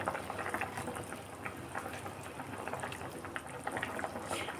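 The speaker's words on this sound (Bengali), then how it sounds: "দেখো আমার ঝোলটা ফুটছে" Vegetable curry gravy with potatoes bubbles steadily in a pot on the stove, a continuous dense boiling hiss and popping at close range with no talk.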